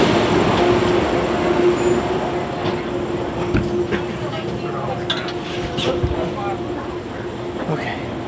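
New York City subway train riding along, with a steady loud rumble and wheel noise throughout, occasional clicks and squeaks, heard from inside the car with faint voices in the background.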